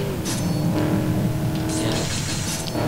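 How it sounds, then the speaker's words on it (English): A race car in the arcade racing game Blur roars and crashes, engine droning under sharp bursts of tire screech and impact noise, loud and close throughout with no talk. "I'm wrecking the crap out of my car."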